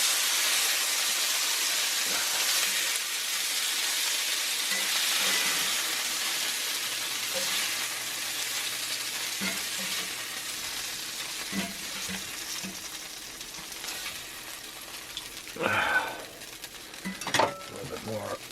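Beef pieces browning in olive oil in a cast iron pot give a steady, close sizzle and frying hiss throughout, with a few metal clinks from the pot and utensils near the end.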